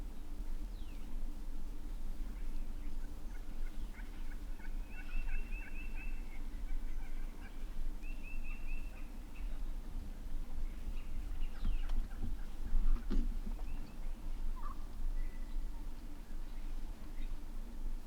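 Wild turkeys, including a longbeard, gobble in short rattling bursts from a moderate distance, repeated several times over a low steady background hum.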